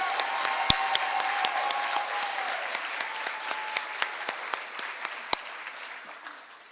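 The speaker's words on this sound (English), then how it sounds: "Let's give all our Teachers of the Year another round of applause." Audience applause for teachers at a Teacher of the Year award ceremony: a room full of clapping, steady and fairly close, with a few sharp individual claps standing out, slowly tapering off at the end.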